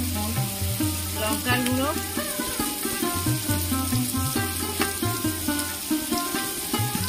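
Ground spices such as turmeric, chili powder and cumin fry in hot oil in a pan for a lote fish curry, giving a steady close sizzle with stirring scrapes while a voice speaks over it.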